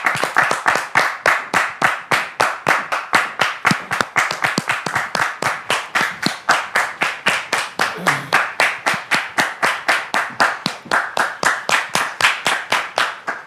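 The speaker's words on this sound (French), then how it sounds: "Je voudrais vous demander de les recevoir avec vos applaudissements" A studio audience on a French-language talk show claps to welcome a couple of guests, loud rhythmic in-unison clapping with sharp regular beats, sustained throughout without speech.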